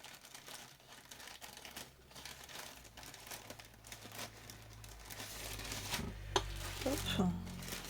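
Small AliExpress parcel being opened with scissors, faint close crinkling and rustling of packaging that grows slightly busier toward the end, with soft handling taps.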